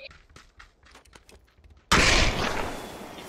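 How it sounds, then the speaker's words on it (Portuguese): Gunshots fired upward in a video game: after a stretch of quiet clicks and faint ticks, a loud sustained burst of gunfire erupts and roars on close and dense to the end. "Eu atirei pra cima."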